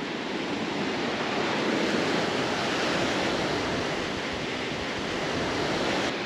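Ocean waves breaking on a surf-fishing beach beyond a sandbar, a continuous loud roar of surf and wash with some wind noise, no voices.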